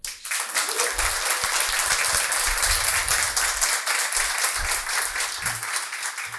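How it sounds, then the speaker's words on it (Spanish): Studio audience at a television talk show giving a strong round of applause to welcome a guest, dense steady clapping from start to finish with low rumbling underneath. "pido que le den un fuerte aplauso a mi invitado de esta noche, el señor Auqui Tituaña."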